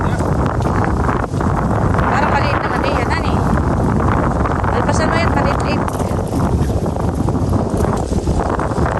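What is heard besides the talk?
strong wind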